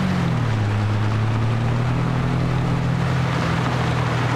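A tractor engine in Farming Simulator 22 labours under a slipping clutch, a loud steady low drone whose pitch sags then holds even, alone without talk.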